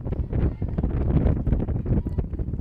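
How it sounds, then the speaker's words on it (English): Gusty wind buffets the microphone at an outdoor high school softball game on a partly cloudy evening, a continuous low rumbling roar that rises and falls throughout with no clear voices. "on a partly cloudy evening, and a windy evening"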